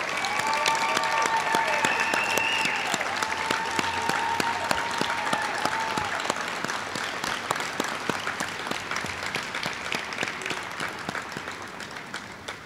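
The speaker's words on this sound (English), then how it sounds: "can we give our veterans a huge round of applause?" A large audience at a Pasadena Veterans Day ceremony breaks into sustained applause for veterans, loud and dense at first, then gradually thinning into scattered claps, with a few faint tonal sounds carried over the crowd.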